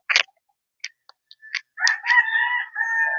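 Young rooster stags crow up close, first some short clucks and clicks, then a long, strained crowing call.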